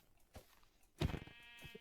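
A sheep in the video game Minecraft gives a short, faint bleat, with a softer call just before and a wavering cry after it.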